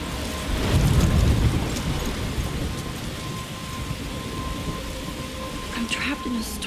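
Heavy rain and a rolling thunderstorm in the Life is Strange video game, with a loud rumble of thunder early on, then a steady downpour hissing throughout.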